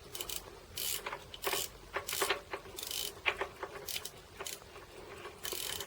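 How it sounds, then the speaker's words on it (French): An old clock being wound with a key, giving a run of small dry ratcheting clicks in uneven bursts, close up and fairly quiet with no talk. "c'est une clé pour remonter les montres"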